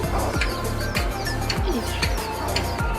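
Pet birds kept in a new, roomy cage chirp and call throughout, with repeated short calls and coos at close range, lively and steady, with no talk.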